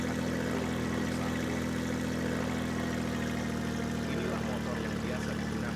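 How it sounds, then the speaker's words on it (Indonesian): A motorbike engine runs steadily at idle, giving an unbroken droning hum with no change in pitch or loudness from start to finish. "Inilah motor yang biasa digunakan oleh Tung Tung Tung Sahur."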